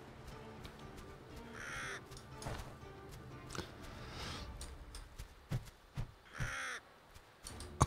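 Crow cawing in the video game Vikings: Wolves of Midgard, several harsh, separate caws rising out of quieter game ambience, growing louder and more frequent toward the end.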